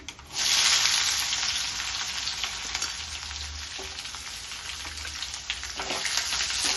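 Onions sizzle in a pan of hot oil with fried chana dal and curry leaves for okra palya, a loud, even frying hiss that swells right after they go in and continues with faint stirring.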